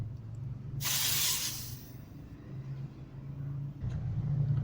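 Compressed air hisses from a tire inflator nozzle in a loud burst of about a second, then fades into a low steady rumble with a second, softer puff near the end.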